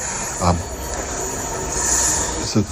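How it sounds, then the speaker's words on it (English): Train rolling through a railway station, a loud, steady rumble with wheel squeal and two sharp rail clunks a couple of seconds apart. "There's a train going to come through."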